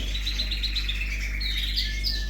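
Several pet birds chirp and tweet continuously in an indoor birdroom, bright and close, with a steady low hum underneath.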